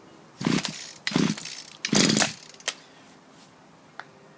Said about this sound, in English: Now we take hold of the pull cord and pull it firmly.